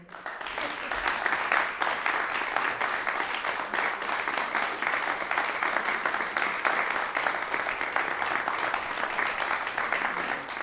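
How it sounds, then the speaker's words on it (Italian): A theatre audience at the Teatro delle Voci applauds after a piano and violin concert, a dense, sustained wash of many hands clapping evenly for about ten seconds. "li invito per l'ultimo applauso sul palco"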